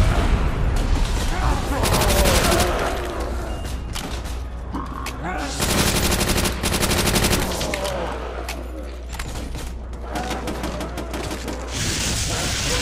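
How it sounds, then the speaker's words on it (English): Gunfire in a Call of Duty Nazi Zombies match: repeated sharp bursts and rapid volleys of shots in clusters across the stretch, loud and close, with players talking over the action. "I try to quick scope him with this sniper"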